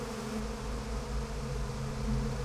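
A thick, continuous hum of bees fills a stretch of Psychonauts 2, holding close and even throughout with no talk, just the layered insect drone.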